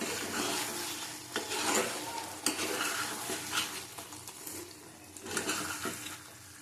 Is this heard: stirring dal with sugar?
yes